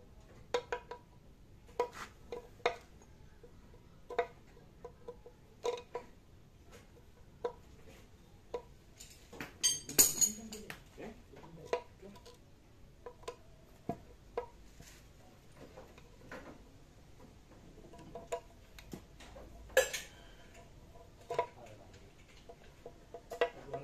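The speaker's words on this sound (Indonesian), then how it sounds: "Kita buka dulu baut obeng obeng plus ada 4 piece." A Phillips screwdriver backs out four screws holding the PCV valve cover on an engine, giving sparse, quiet metallic ticks and clicks spread across the stretch with pauses between them and no talking.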